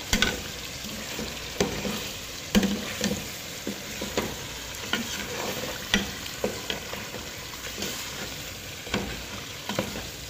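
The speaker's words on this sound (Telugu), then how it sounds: "ఇది ఫ్రై చేసేసేయాలి." Masala frying with yogurt in a pan for chicken biryani: a constant crackling sizzle with regular scraping stirs and light knocks of the spoon against the pan, close and steady with no talk.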